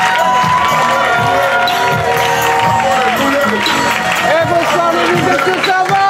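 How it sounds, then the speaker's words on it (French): A comedy show crowd in Marseille cheers, whoops and claps loudly, with shouting and excited voices layered over steady applause throughout. "j'aimerais qu'on lui fasse un tonnerre d'applaudissements"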